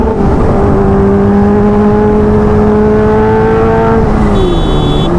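A car passes with a loud engine on a road near Lonavala; a strong, steady engine whine holds close and loud, then drops in pitch as the car goes by.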